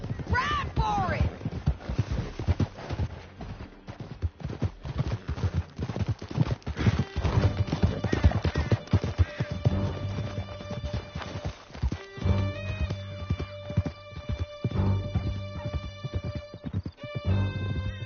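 A horse gallops in Red Dead Redemption 2, with rapid, close hoofbeats pounding steadily and occasional snorting. Game music and speech sit alongside the galloping.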